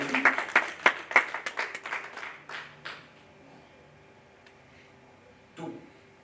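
A church congregation applauds with dense, rapid clapping that quickly thins into scattered claps and fades out, followed by a quiet pause and one brief thump.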